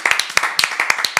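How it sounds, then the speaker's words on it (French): Audience clapping at a live talk show, a short burst of brisk, fairly close hand claps in an uneven rhythm, about a dozen distinct claps in just over a second. "on va encore une fois t'applaudir"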